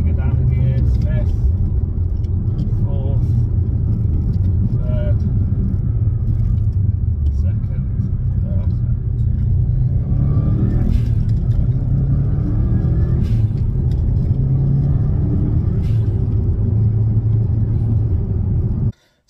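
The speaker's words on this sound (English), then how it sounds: "as you saw on the test drive, the gear changes were absolutely perfect and precise with the Whiteline gear linkage bushes" A Subaru Impreza WRX STI with a six-speed gearbox and upgraded gear linkage bushes drives on a test run, a loud steady cabin engine and road rumble with small rises as it shifts, cutting off abruptly at the end.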